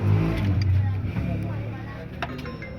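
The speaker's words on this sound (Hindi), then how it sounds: "गाड़ी स्टार्ट करें, ये स्टार्ट हुई, साथ ही फ़ैन चल गया" A Hyundai car engine turns over and catches, followed by a low idling rumble as the radiator fan switches on. It is close and fairly loud, with someone talking over it.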